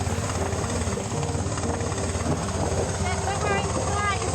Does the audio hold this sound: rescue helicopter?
yes